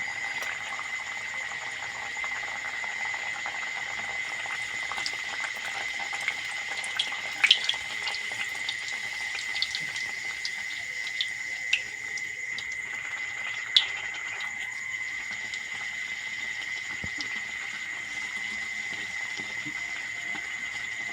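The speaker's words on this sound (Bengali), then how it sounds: "কড়াইতে সাদা তেল গরম করতে দিয়েছিলাম তেলটা গরম হয়ে গেছে এবার লুচিগুলো ভেজে নেবো" Luchi deep-frying in hot white oil in a wok, giving a steady, even sizzling hiss that runs unbroken throughout, with a few faint pops and clinks and no talking.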